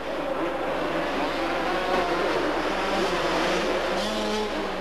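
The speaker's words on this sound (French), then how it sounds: "Au guidon de sa 125 Honda, Michael Pichon" A Honda 125 motocross motorcycle races with a continuous, fairly loud engine whine that holds steady throughout, without speech over it.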